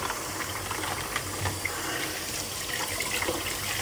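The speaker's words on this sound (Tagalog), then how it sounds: "Sige, maghugas muna tayo ng plato" Water runs from a tap during dishwashing, a steady low hiss and splash that holds at a moderate level for several seconds with no speech over it.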